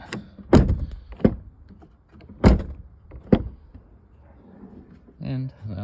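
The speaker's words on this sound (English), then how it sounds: "So I just slowly close the door. You can hear it." The door of a second-generation Dodge truck swings slowly shut, landing as a few separate thunks and latch clicks spread over several seconds, with short bits of talk between them.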